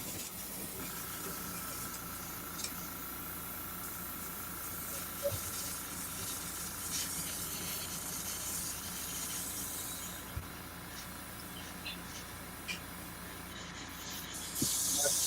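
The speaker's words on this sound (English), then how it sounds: "Let me clear out this airbrush real quick." An airbrush being cleared out sprays with a steady, faint hiss of air that runs the whole time, with a few small clicks and taps scattered over it.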